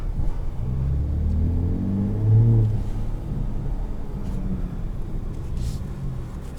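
Ford F-150 Raptor 37 Performance pickup exhaust giving a steady low rumble with a swell in the middle, burbling deep and close, no clear distinct backfire pops standing out.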